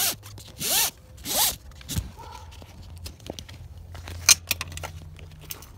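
A blue strap on a Thule four-bike rack being loosened, with two quick loud zipping pulls of webbing through the buckle, followed by faint rustles, taps and small clicks nearby.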